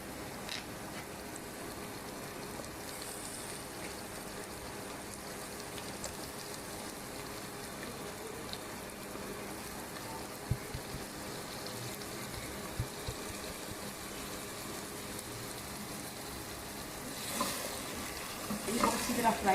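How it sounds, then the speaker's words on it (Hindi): Bitter gourds (karela) fry in a pan with a continuous, even sizzle and hiss that swells slightly near the end. "इनको अच्छी तरह फ्राई करना है"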